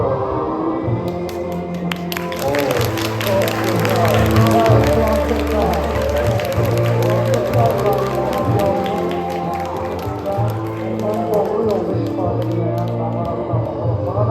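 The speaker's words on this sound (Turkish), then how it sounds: "Çempiona kubuklar verilir, alkışlar." Clapping from a crowd at a Brain Ring quiz award ceremony as the champions receive their cups, a dense run of claps holding steady under a murmur of voices and background music.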